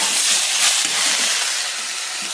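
Momo vegetable stuffing frying in a pan, a steady broadband sizzle and hiss with a few soft stirring bumps underneath, continuous and close throughout.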